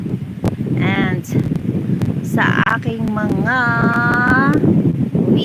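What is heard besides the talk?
strong wind by the sea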